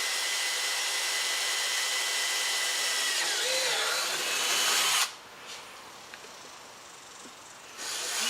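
A power drill bores into the corner of a water treatment system fitting with a loud, steady whine for about five seconds, stops abruptly, and then a faint handling clatter follows before a brief restart at the end.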